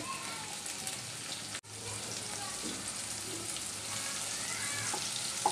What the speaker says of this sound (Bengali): এবারে পেঁয়াজ রসুনের সাথে আমি চিংড়ি শুটকি মাছগুলো দিয়ে দিচ্ছি।